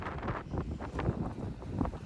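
Gusty wind rumbling and buffeting the microphone outdoors on a street walk in North York, Toronto, a fluctuating low roar throughout with no clear talk.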